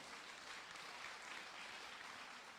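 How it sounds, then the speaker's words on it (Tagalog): A church congregation applauding together in worship, a dense, steady wash of clapping from many hands, fairly quiet and even throughout with no speech over it. "palakpak para sa Panginoon"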